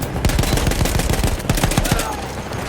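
Rapid machine gun fire from a mounted gun in Battlefield 1, with Austro-Hungarian troops nearby: a loud, steady rattle of close shots repeating quickly for the whole stretch.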